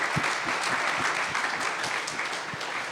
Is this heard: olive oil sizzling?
no